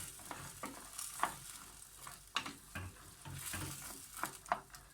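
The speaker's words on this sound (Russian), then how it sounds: "И хорошенечко помешали это все." Scraping and clinking of a utensil stirring beans in tomato sauce in a frying pan, over a faint steady sizzle, with irregular knocks against the metal.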